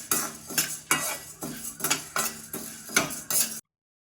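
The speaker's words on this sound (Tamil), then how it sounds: "இந்த அளவுக்கு பருப்பு வறுத்தது போதும்." Lentils (dal) roasting in a pan for homemade idli podi are stirred with a metal spoon, giving repeated scraping clinks against the pan in a steady rhythm of about eight strokes, close and clear, with faint dry rustle and no talk.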